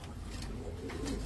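A pair of large Kaldam pigeons coo softly, two or three brief low coos over a steady background hum, close by and without talk.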